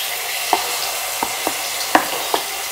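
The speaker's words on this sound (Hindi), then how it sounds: "इससे थोड़ा सा मैं भून लूँगी, बस कच्चा पानी से मिट जाए इसमें से" Ginger garlic paste frying in a pan for chicken korma, a steady low sizzle broken by several sharp clicks and scrapes of a spoon stirring against the pan, close by and with no talking.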